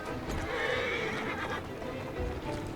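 A horse in the game Assassin's Creed Syndicate whinnies loudly and steadily while hooves clip-clop underneath, the neigh filling most of the short stretch with no talking.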